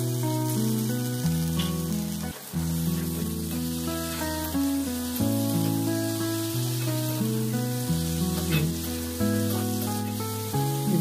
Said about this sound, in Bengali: দিয়ে দিলাম আলুগুলো, এখন ফ্রাই করে নেবো হালকা